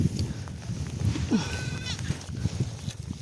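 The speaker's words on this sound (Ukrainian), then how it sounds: "Ай, ти моя коза." A goat bleats once in a wavering call amid steady low outdoor rumble and shuffling.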